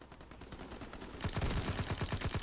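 Gun test-fired in the video game Call of Duty WW2, a rapid burst of automatic shots in an even rattling rhythm, growing louder partway through.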